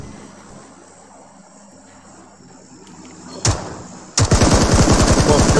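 Gunfire in the PUBG battle royale video game: a quiet stretch, then a single loud shot near the middle, followed by a dense burst of rapid automatic fire that stays loud to the end.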